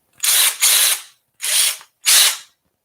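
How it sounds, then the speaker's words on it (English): A cordless power drill for minor home repairs runs in three close, loud bursts, two joined and then two separate spins, each revving up and stopping, with no talk. "let me show you my drill."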